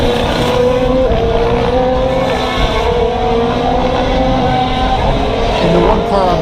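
Formula 1 cars racing past during a race weekend, a loud continuous high-revving engine and exhaust wail with shifting pitch, close and sustained throughout, with crowd noise mixed in.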